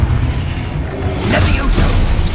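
Confringo fire spell blasting in Hogwarts Legacy, a loud low boom that swells and rumbles on for about a second with a crackling burst above it.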